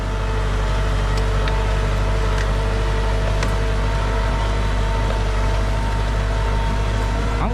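A Ford 7610S tractor plowing a field with an 8-disc plough, its engine a steady low drone throughout with faint clanks and ticks over the top.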